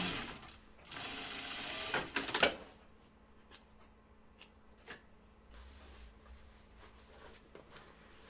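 A sewing machine binds the last curves and bottom edge of a Wallaby sewing pattern garment, running in one steady burst near the start before falling quiet apart from a few faint clicks and handling noises.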